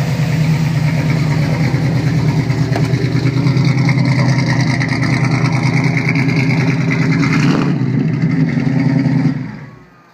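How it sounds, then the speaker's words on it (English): A Ford Gran Torino Sport engine with headers and a max flow exhaust idles with a loud, deep, steady rumble and a slight rev before cutting off near the end. "a lot of that good sound coming from the headers, max flow exhaust"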